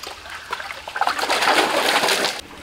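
Water splashes and trickles as sand is washed by hand in a filtration setup, a close, rising slosh and splatter that swells midway and cuts off near the end.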